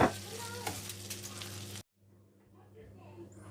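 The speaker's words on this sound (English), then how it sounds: "I'm going to add 100 grams of brown thin Seviyan. Just going to mix this" Thin brown vermicelli (seviyan) stirred as it fries in melted fat, giving a close, soft sizzle with light scraping for under two seconds before it drops to near silence.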